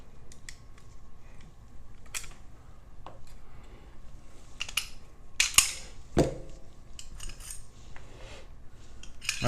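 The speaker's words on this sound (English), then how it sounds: "So what I'm going to do now is just a field strip." Field stripping a Smith & Wesson M&P pistol gives sparse, sharp metallic clicks and snaps, close and fairly quiet, with a couple of louder slide and part clacks near the end and no talk.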